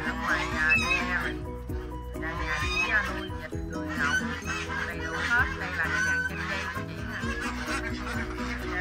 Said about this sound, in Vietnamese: Bên ra bên kia là chị nuôi ngỗng